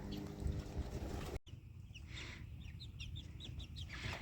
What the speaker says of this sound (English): And now we've got the baby chicks out in the new tractor.